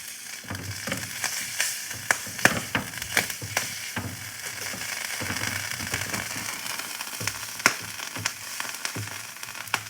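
Grilled cheese sizzling in butter in a pan, a continuous crackling fry with frequent sharp pops and spits scattered throughout, close and fairly loud, with no talking.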